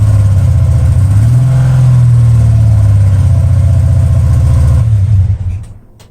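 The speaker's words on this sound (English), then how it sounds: "Well, aren't you going to rev it up a little?" A Mitsubishi 3000GT engine runs loud and close, rising briefly in a rev before settling back to a steady idle drone and then cutting off near the end.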